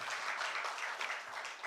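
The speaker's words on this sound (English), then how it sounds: "Another round of applause" Applause from the audience at an inter-county maternal and perinatal death surveillance meeting, a steady, moderately loud patter of many hands clapping throughout, with no talk over it.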